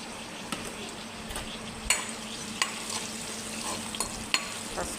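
Green chillies fry with turmeric in a pan, a steady soft sizzle broken by several sharp scrapes and clicks of a spoon stirring against the metal, close and moderately quiet.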